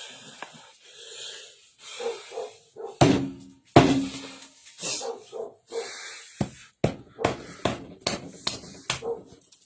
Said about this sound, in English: I'm gonna take these sticks and pound them in here